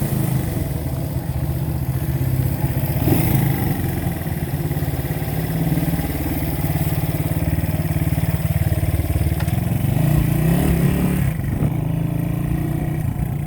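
A small 1970 Honda CB100 Super Sport motorcycle runs steadily under way, its buzzing single engine loud and close with a constant drone, slight rises in revs and rattly mechanical clatter.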